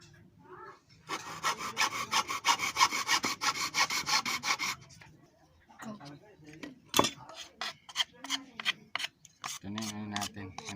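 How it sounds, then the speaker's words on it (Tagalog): Rapid back-and-forth strokes of a handsaw biting through wood for a homemade rubber band gun, a close rasping burst that stops, followed by scattered knocks and handling clatter with a voice speaking briefly. "tapos putulan natin ng lagari."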